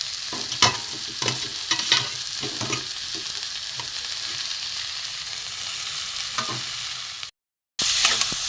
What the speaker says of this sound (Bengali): এর সাথে একটু ভালো করে কষিয়ে নেব।